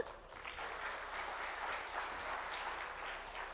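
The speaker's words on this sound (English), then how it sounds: "You can clap for him." An audience claps at a talk: steady, dense applause at moderate level for the whole stretch, with no voices over it.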